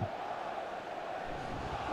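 Liverpool supporters in the FIFA 15 football video game keep up a steady, dense roar of chanting and cheering, a continuous crowd wash with no breaks.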